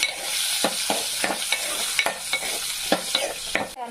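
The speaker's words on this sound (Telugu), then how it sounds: "కొంచెం పసుపు వేసి వీటిని బాగా వేపాలి" Indian gooseberries fry with turmeric in oil in a pan, a constant bright sizzle broken by rhythmic scraping strokes of a spoon stirring them.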